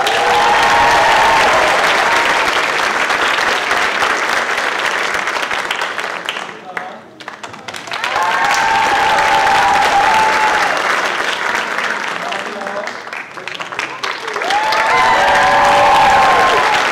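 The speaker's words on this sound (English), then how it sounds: "Yeah, Victoria, we can applaud." Sustained audience applause fills a high school chorus spring concert hall, loud and dense, dipping briefly midway before swelling again, with voices and a little cheering mixed in.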